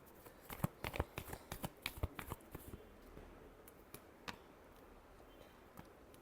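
Tarot cards shuffled in a rapid run of crisp riffling snaps and flutters, quiet and close, the burst easing into a few scattered single flicks near the end.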